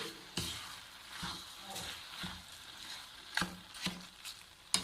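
Carrot halwa being stirred in a pan with sugar and desi ghee: intermittent scraping strokes and soft clacks of the spoon against the pot, fairly close, over a faint background sizzle.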